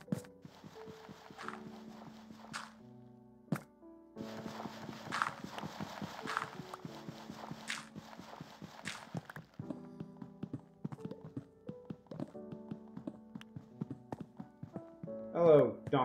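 Donkey hooves clip-clop in Minecraft as a string of light, even taps under background game music, moderately quiet throughout.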